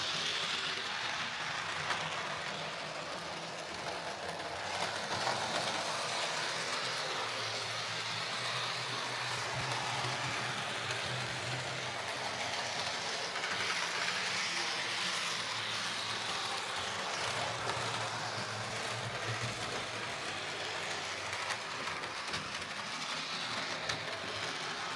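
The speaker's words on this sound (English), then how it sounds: "just straightforward axle replacement and a light service, and then the locomotive ran fine." A model railway locomotive runs steadily after an axle replacement and light service, giving a continuous soft whirring rumble with a faint rattling texture that holds level throughout, with no voices.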